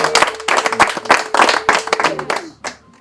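A small audience clapping at a Rwandan comedy show, a burst of close, uneven hand claps lasting a few seconds before thinning out into a few scattered claps.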